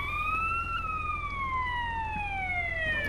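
A police siren on a car in the video game SAMP wails in a long, slowly falling tone over a low, steady engine rumble, close and continuous.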